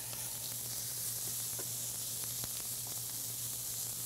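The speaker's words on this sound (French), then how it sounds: "Maintenant, j'ai mes saucisses italiennes qui sont presque cuites." Italian sausages, nearly cooked, sizzle and spit steadily in a hot pan, a dense, continuous frying hiss flecked with small pops, with no talking over it.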